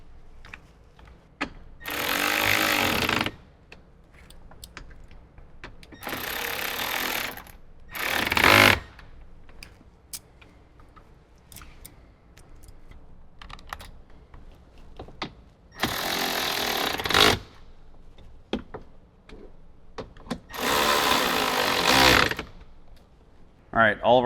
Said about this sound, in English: we're going to use a 10 millimeter socket on the top side and tighten those up